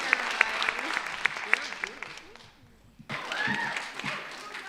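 Scattered hand claps from a poetry slam audience in a library, sharp individual slaps that thin out and nearly stop midway before picking up again amid murmuring voices.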